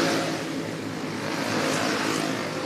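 Racing karts on the Daytona flat track produce a continuous, loud engine drone with layered buzzing motors, steady throughout without any voices.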